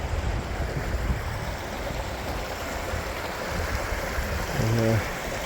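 Water flows over rocks at Scarp Pool, a small rocky pool behind a makeshift dam, making a steady, close rushing wash with a brief low tonal hum near the end.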